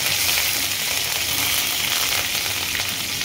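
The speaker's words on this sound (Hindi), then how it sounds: "ये करी पत्ते इसमें डालूंगी" Curry leaves dropped into hot oil for a puffed-rice snack crackle and hiss loudly and continuously, a dense close-up sizzle with no speech.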